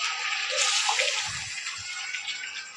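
Raw beef goes into a pan of lightly browned garlic paste for nihari, set off by a dull thump of the meat landing. A steady, hissing sizzle runs close and loud throughout, with no talking.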